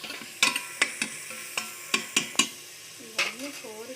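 Vegetables with ginger-garlic paste being stirred in a frying pan, with repeated scraping and clinking strokes of a spoon against the pan over a steady sizzle, and a voice speaking briefly near the end.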